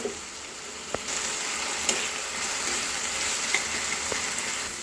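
Mixed vegetables frying in a pan, a steady close sizzle with a few faint clicks of stirring, no voices.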